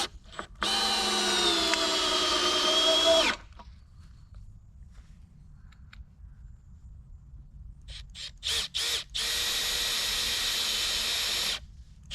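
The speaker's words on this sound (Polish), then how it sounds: "teraz takimi dwoma wkrętami skręcam konstrukcję" A power drill driving two screws into a wooden frame for a garden sauna, in two whirring bursts: one long run, a pause with faint knocks, then several short stuttering pulses and a second long, loud run.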